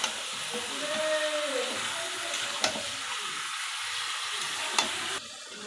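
Mutton fries in a pan with a soft, continuous sizzle, punctuated by two sharp utensil clicks and light stirring, ending in a sudden drop to quieter hiss.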